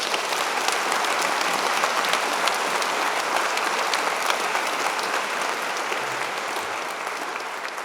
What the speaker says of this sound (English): We have another round of applause for Poundmaker for that stirring procession.